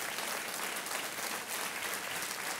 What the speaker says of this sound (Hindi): तालियों के साथ आपको बधाई देते हैं।